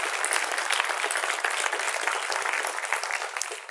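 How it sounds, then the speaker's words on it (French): A crowd claps for Jake and his team at a conference in Quebec, a brisk, even burst of applause lasting a few seconds, moderately loud and without speech over it. "Une main d'applaudissement pour Jake et son équipe"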